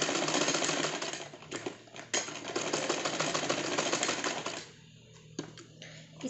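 A sewing machine stitches a cushion cover seam about half a centimeter from the edge. The motor whirs steadily and rapidly up close, then pauses briefly near the end with a few clicks.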